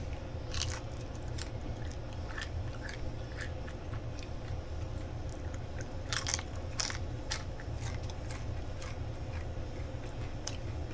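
Close, crisp crunching bites and chewing of crunchy turkey, irregular and repeated, with no talking.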